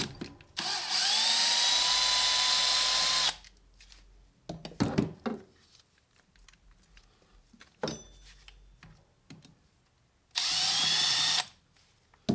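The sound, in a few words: power tool removing alternator screws on Mercedes E55 AMG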